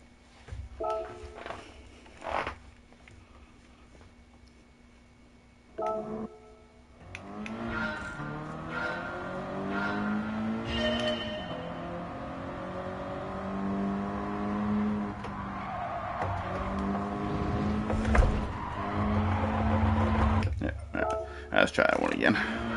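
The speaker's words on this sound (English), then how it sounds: "Let's hop in the old Subaru, since these cars seem to be fairly evenly matched." An old Subaru race car in a Gran Turismo 7 daily race, its engine note climbing repeatedly through the gears with a whining harmonic tone, some short bursts before a long sustained run.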